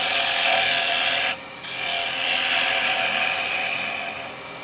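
Steady, close rasping cut of a turning tool shaving spalted beech on a wood lathe, with a brief dip as the tool lifts off and then resumes, no talking.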